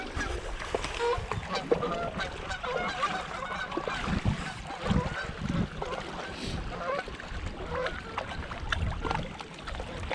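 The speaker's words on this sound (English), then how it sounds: "Look at them there, gooses." Geese honk repeatedly outdoors at a waterside fishing spot, their calls mixed into a steady wash of wind and water noise throughout.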